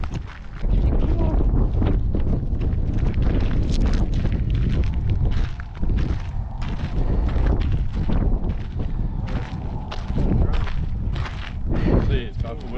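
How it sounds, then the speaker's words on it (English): Strong desert wind at Seven Magic Mountains buffets the microphone throughout, a loud continuous roar with gusting surges and brief lulls. "See, it's awful windy."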